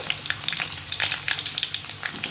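Ginger, garlic and green chilli fry in hot oil for street-style veg fried rice, giving a steady close crackling sizzle with light stirring scrapes and no talk.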